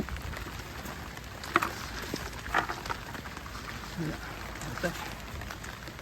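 Steady rain patters down on an okra garden, a close, even hiss with scattered drops tapping nearby, while a person speaks briefly over it.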